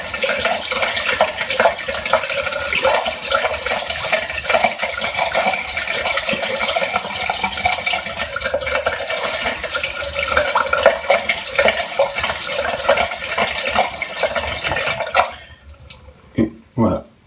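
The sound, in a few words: running water while shaving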